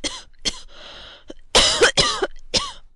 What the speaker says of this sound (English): you are coughing already